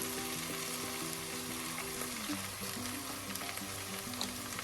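Potatoes and okra stir-frying in a pan on a high flame, with a steady, dense sizzle and crackle under soft scraping stirs, close and continuous throughout.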